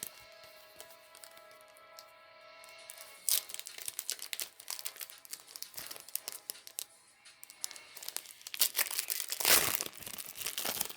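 A Dark Revelation 1 trading card booster pack torn open by hand, with irregular crinkling and ripping of the foil wrapper that grows busier and louder, heard up close.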